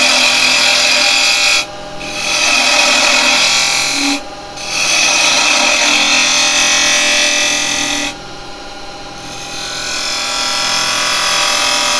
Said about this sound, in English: I'm going back to my spindle gouge